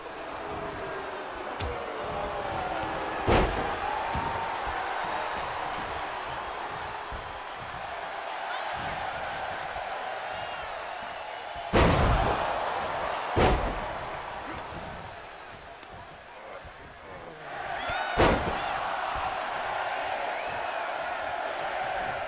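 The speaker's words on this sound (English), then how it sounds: "And look at Brandon slamming Marcus there" Sharp, loud slam impacts from a WWE 2K23 Royal Rumble match ring out a few times over a steady arena crowd murmur and commentary-like background noise.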